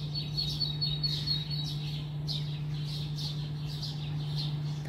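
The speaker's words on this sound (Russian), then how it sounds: "Сегодня что-то птички разошлись." Several small birds chirp and sing outside a window in repeated short bright calls, some nearer and some farther off, over a steady low background hum.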